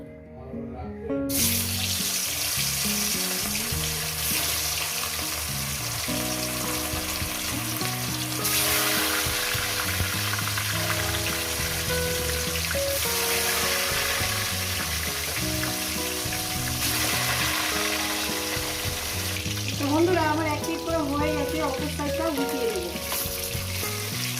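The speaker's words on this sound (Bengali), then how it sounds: "এবার এক এক করে আমি মাছটা দিয়ে দেবো" Katla fish pieces frying in hot oil give a steady, loud sizzle that holds for the whole stretch, with a tonal background running underneath.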